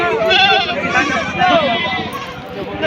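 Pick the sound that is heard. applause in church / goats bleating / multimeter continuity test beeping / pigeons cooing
goats bleating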